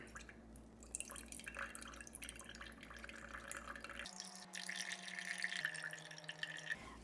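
Pineapple juice drains from canned fruit into a measuring cup in a kitchen, making a steady close trickle with soft drips and a faint hum beneath, no talk.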